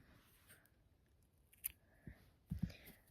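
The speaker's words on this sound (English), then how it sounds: "what you're going to do is cut the yarn, leave about 3 or so inches because you'll need that" Scissors snipping knitting yarn on a bookmark project, a couple of faint, quiet clicks and cuts close by in an otherwise still room.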